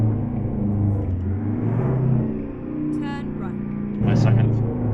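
An International 9800 cab-over truck with a two-stroke engine in American Truck Simulator rumbles steadily and rises briefly in revs, heard under continuous talking.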